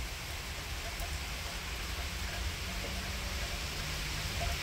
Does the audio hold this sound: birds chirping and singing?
no